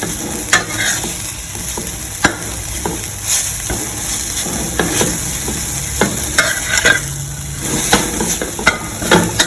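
Jute leaves stir-fry in a hot pan, a loud, continuous sizzle punctuated by sharp, repeated spatula scrapes and taps as the leaves are pulled apart.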